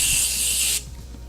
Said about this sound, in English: you have to be careful because of the way the spray is